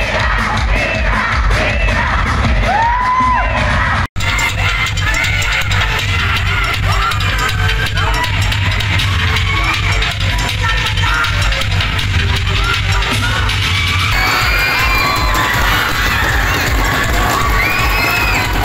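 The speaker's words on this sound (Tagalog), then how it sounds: "Napuno ng hiyawan ang tanghalan." A packed hall at the Mutya ng Pasig 2024 pre-pageant competition roars with continuous crowd cheering, shouting and high-pitched yells from supporters, loud and sustained throughout, with a brief cutout early on.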